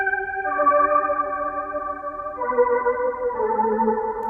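A smooth analog-style synth melody from an Analog Lab bank plays sustained chorused notes that step to new pitches every second or two, clean and alone with no voices.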